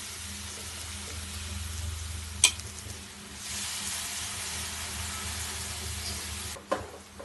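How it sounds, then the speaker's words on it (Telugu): Soaked, squeezed puffed rice goes into a hot spiced tempering for Rayalaseema uggani, giving a low steady sizzle with a sharp clatter, a brief burst of louder hiss, and a second knock near the end. "ఈ పేలాలు మురుమురాలన్నీ పోపులో వేసుకొని ఇలా మంచిగా బాగా కలిసేటట్టు కలుపుకోవాలి"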